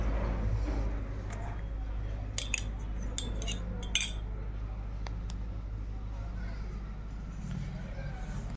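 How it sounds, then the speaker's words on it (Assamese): A spoon stirs custard powder into cold milk, clinking sharply against the container a few times early on, then mixing more quietly over a low, steady background hum. "ঠাণ্ডা গাখীৰত 2 চামুচ কাষ্টাৰ্ড পাউডাৰ দি দিছোঁ এতিয়া ভালদৰে গুলি লওঁ"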